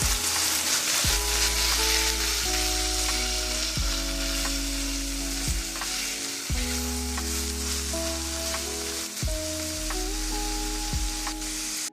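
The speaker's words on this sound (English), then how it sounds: "Now you want to continue to cook your ground beef until it's brown all the way through." Ground beef fries with onion and garlic in a pan, a loud, continuous sizzle broken by repeated stirring and scraping sounds at regular intervals.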